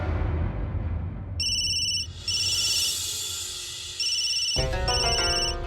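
A telephone rings insistently with calls from relatives, a loud electronic ringtone of steady repeating beeps that switches to a different chiming pattern midway, with no one talking.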